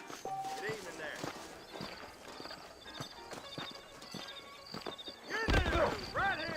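Horses clip-clopping along at a walk in the Red Dead Redemption video game, with steady hoof beats under background music and a brief whinny toward the end.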